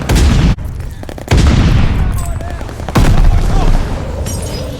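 Heavy explosions from a glide bomber strike in the Call of Duty: Vanguard video game, loud booming blasts in several bursts with rumbling debris and scattered gunfire between them.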